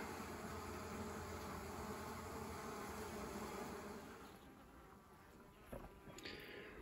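Honeybees around a hive fill the air with a dense, steady drone, loud and close at first, then thinning somewhat toward the end, with a faint high whine running through.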